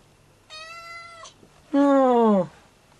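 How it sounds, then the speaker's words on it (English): A hungry house cat meows twice up close, a thinner first call followed by a louder, fuller second one, with quiet room background between. "The kitty want food again."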